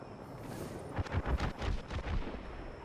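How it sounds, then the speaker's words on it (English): Apex Legends gunfire, a rapid burst of several cracking shots in the middle, somewhat distant over a windy background hiss. "Please go towards the gunfire."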